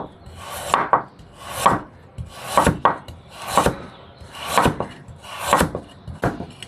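A knife chops carrot on a wooden cutting board in about a dozen crisp, evenly spaced strokes, close and clear with no talk.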